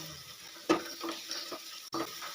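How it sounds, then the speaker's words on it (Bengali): Spices with hand-crushed kasuri methi sautéed in oil for an egg kalia, a quiet sizzle broken by a couple of spoon scrapes and knocks against the pan, close and brief. "এবারে সব মশলাগুলো খুব ভালো করে একসঙ্গে কষিয়ে নেবো"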